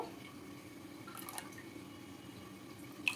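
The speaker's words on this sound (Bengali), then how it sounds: "এবার এখানে দেব গোলাপ জল দেব" Rose water poured into a pot of milk tinted with food colouring while making hilsa biryani gives a faint, quiet trickle with a few soft drips and splashes, heard alone.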